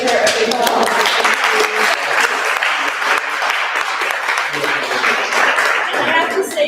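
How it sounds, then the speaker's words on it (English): An audience at a museum talk at the Met applauds a speaker with sustained, dense clapping that stays loud and even throughout, close to the microphone. "let's give her a big applause"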